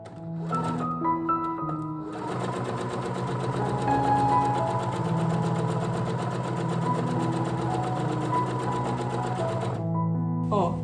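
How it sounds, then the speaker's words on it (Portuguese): A sewing machine stitches a ruffled fabric placemat in farmhouse style, running as a rapid, even mechanical chatter for most of the clip. Short pauses come near the start and end, with a quiet voice faintly present. "E agora a gente vai repetir com uma costurinha mais do lado"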